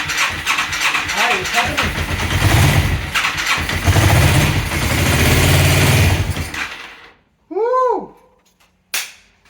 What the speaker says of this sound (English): But it starts and runs. I don't know if there's oil. Is that bad? It runs rough as fuck.